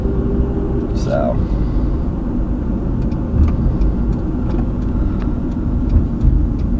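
A car drives along a road near Folkston, Georgia, a steady, close cabin rumble of engine and tyres running through the whole stretch, with a few faint clicks over it.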